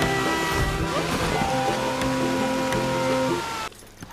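A waterfall in the video game Red Dead Online rushes in a steady, loud, broadband roar with tonal hum layered over it, cutting off abruptly near the end.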